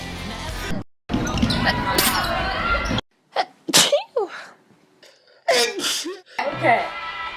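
Several sharp sneezes from a few people, each a short explosive burst, separated by pauses and quick exclamations, with casual talk among people nearby in between.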